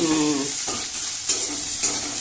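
Onion and a dried red chili fry in a pan, with a loud, close sizzle running throughout, broken by a few soft scrapes of stirring and a faint tonal hum underneath.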